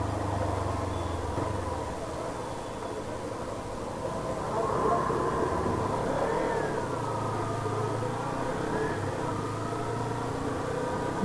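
A Kawasaki Ninja 300 motorcycle fitted with a brass chain sprocket runs steadily through its gears, a constant mid-pitched engine drone with small pitch shifts as the gears change, close and continuous, with no talk.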